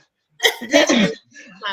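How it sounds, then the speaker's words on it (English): A person clearing their throat in a few short, harsh bursts, close and alone. "Let me clear my throat."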